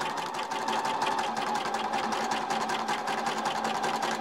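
A sewing machine stitches a scalloped edge on a sunhat brim in a fast, steady, close-up whirring chatter that runs continuously without pause, alone with no voices.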